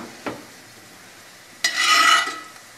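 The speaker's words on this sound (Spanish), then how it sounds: "y lo vamos a ir bañando con la mantequilla" Butter and thyme foaming in a tilted pan as a shrimp burger is basted, a soft tap followed by a brief bright sizzling swish of spooned butter, close and alone.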